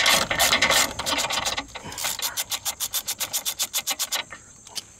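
Close, loud ratchet wrench clicking steadily as it backs out a square-headed bolt on a 2002 Nissan Xterra 3.3 4x4 during transmission removal, with a fast burst of clicks followed by a slower, evenly spaced run of distinct strokes.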